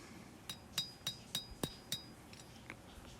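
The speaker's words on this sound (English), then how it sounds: "now we're just going to be hammering in the bevels and finishing out the blade" Steel blade with an integral bolster being hand-forged, a hammer striking the bevels in about six sharp ringing blows at a steady pace, fairly close, followed by a few softer taps and no talk.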